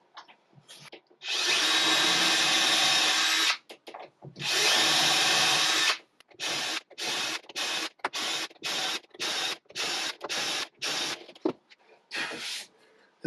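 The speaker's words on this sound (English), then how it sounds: "A lot of drilling to do." A power drill whirs in two long runs drilling shelf pin holes in a 5mm template, then in a rapid series of short bursts with brief pauses between them.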